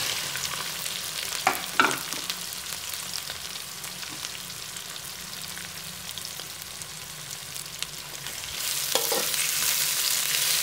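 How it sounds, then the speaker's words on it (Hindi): Onions sizzle in a hot pan for chicken kachnar, a continuous close frying hiss punctuated by a few sharp stirring clinks, swelling louder near the end. "प्याजों को थोड़ा फ्राई कर लेंगे।"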